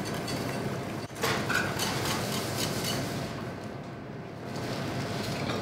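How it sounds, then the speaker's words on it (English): A whisk works yeast into a dough mixture in a bowl, producing steady, rhythmic scraping and tapping strokes against the bowl, fairly close and continuous. "Give it another whisk."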